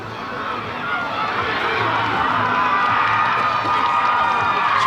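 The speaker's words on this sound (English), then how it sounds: "You hear the cheering on the other fields." Distant crowd cheering and shouting carries from neighbouring fields at a youth rugby league tournament, a steady broad roar that swells slightly and holds throughout.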